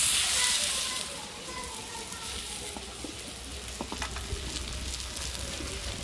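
Rice batter for thin chakli pitha ladled onto a hot tawa, giving a broad steady sizzle that is loudest at the start and settles into a softer hiss with small crackles.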